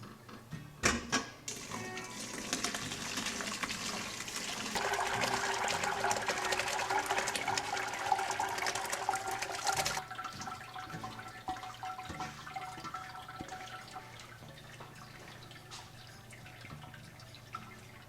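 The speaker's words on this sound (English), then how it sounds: "we put the cheesecloth into the strainer in a pot, and we're going to pour the cheese and pour out the whey" Cheese curds and whey poured from a pot through a cheesecloth-lined strainer on a farm, a steady rushing, splashing pour for about ten seconds that thins to softer trickling and dripping.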